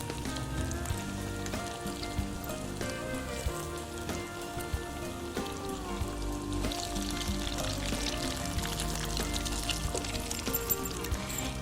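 An omelette pakora made with minced meat and egg fries in a pan, giving a steady, dense sizzle and crackle throughout, with background music playing underneath.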